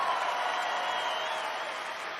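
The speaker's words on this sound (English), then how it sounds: "Can we give a big round of applause to our person running the spotlight up there?" Audience clapping for a spotlight operator at a stand-up comedy show, a dense steady wash of applause and crowd noise sustained throughout at fairly even loudness.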